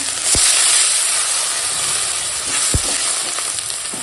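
Water splashes into a pan of fried spice paste for a fish tel jhal, raising a loud, continuous steamy hiss that eases slightly, with a couple of dull knocks from the pan.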